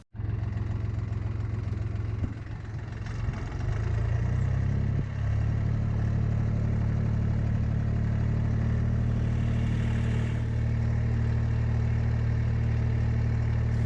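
A small diesel engine of a Jinma 244SX compact tractor starts up and settles into a steady, loud idle with a deep, even hum and slight clatter.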